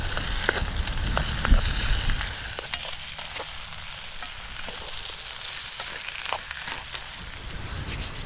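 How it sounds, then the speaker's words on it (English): Chopped ribeye steak sears in a pan on a Trangia camping stove, a loud broadband sizzle that starts strong and settles into a steady, softer crackle with scattered pops and spatula scrapes. "let's get this meat in here. So we'll get that meat sealed."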